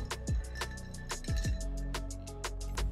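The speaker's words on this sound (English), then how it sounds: "Add some ice, stir it up," Ice clinks and rattles inside a mixing glass as a martini of gin, dry vermouth and orange bitters is stirred, giving a steady run of sharp, close tinkling taps with a low background hum.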